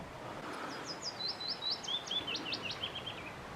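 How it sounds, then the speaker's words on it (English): A warbler calls from a tree close by, a rapid series of thin, high chirped notes repeating for a few seconds in a steady run over soft outdoor background noise, with no talking. "With a warbler right close up in that tree."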